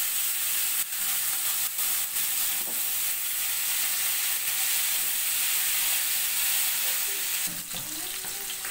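Shing fish, stinging catfish for a spinach dish, sizzle steadily in hot oil, with a continuous bright hiss and a few faint clinks and stirring touches near the end.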